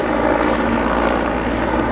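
A Mil Mi-8 helicopter manoeuvring at the Duxford airshow, its loud, steady engine and rotor roar filling the air without a break, with no voices over it.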